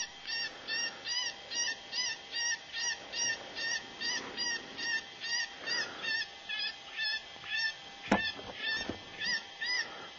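A Spitfire electronic game caller zipped inside a deployment bag plays repeated goose honks in a steady rhythmic series, somewhat muffled and moderately loud, with a brief sharp knock near the end.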